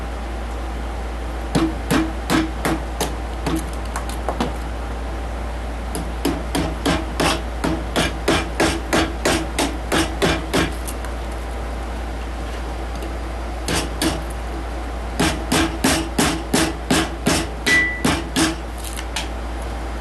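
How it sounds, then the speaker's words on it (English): A big screwdriver beats loose material off a piece of spalted maple in a series of sharp, close knocks, coming in quick clusters with short pauses between over a low steady hum. "I'll get a big screwdriver and beat the rest of that off of there."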